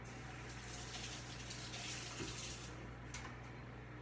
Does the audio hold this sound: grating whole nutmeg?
no